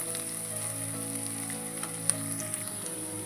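Onions frying in a pan make a steady sizzle close by, with a few sharp pops and crackles, and no talk over it.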